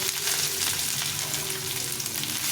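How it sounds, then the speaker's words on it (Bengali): Chopped onions fry in hot oil with cumin seeds and bay leaves in a pan, a dense, steady sizzle that holds close and loud throughout with no talking. "পেঁয়াজটাকে একটু লাল লাল করে ভেজে নেব"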